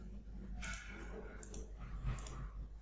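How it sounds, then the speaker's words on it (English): A computer mouse clicks in a quick pair of sharp taps, then more light clicks follow against a faint background hum. "Let me just double click on this circle."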